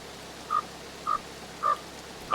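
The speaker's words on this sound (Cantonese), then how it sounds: "有青蛙叫啊嘛" Four evenly spaced frog croaks ring out in Escape from Tarkov, each short and clear over a quiet ambient background, with no voices.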